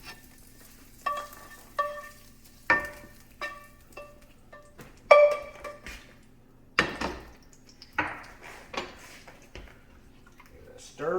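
Sausage is stirred into a pot for mostaccioli, with repeated sharp spoon scrapes and clanks against the metal at a loose, uneven rhythm over a quiet background hum.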